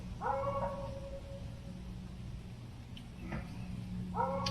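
Dogs whimper and give short yips near an outdoor Blackstone griddle, a few high whining bursts at the start and end over a quiet, steady background hum.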